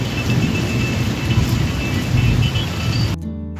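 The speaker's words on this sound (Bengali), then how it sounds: "বৃষ্টি একটু কমছে" Heavy rain falls steadily as a dense, even roar close by, mixed with low rumbling, before the sound cuts off abruptly near the end.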